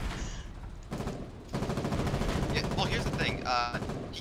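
Tank cannon and machine-gun fire in the Foxhole war game, a dense run of rapid shots and bursts that keeps going under voices on the radio chatter, with sharper cracks near the end.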